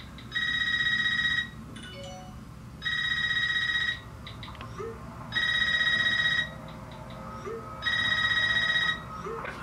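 A telephone rings in the Scream movie trailer, four evenly spaced bursts of shrill electronic ringing with quiet gaps between, moderately loud over a soft background.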